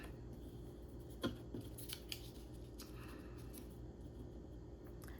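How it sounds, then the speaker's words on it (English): Scissors snip through paper for a card, a few faint close snips over a low steady background hum. "since I'm going to be cutting this off here"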